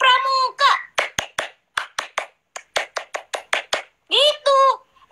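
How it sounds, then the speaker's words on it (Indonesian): Scout-style rhythmic clapping, a patterned sequence of sharp, close hand claps in quick groups, interleaved with a person speaking and chanting along in a melodic voice. "Tepuk pramuka."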